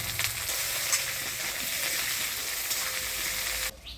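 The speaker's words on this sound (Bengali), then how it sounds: "ফোড়নের তেলে আলুটা নাড়াচাড়া করে নিলাম" Potatoes sizzle steadily in hot spiced tempering oil while being stirred, a loud, continuous frying hiss with faint scraping, in a traditional Bengali village kitchen; the sizzle drops off sharply just before the end.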